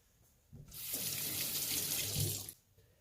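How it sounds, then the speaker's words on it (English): Water from a kitchen tap runs for about two seconds as hands are rinsed beneath it, a close, steady hissing splash that starts and stops abruptly, with no talking. "I'm going to go ahead and rinse my hands."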